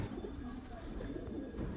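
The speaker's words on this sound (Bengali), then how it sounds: "এখানে দেখতে পাচ্ছেন যে পায়রা পাঁচ পিস" Pigeons coo in low, rolling murmurs, several soft calls overlapping and repeating at moderate distance.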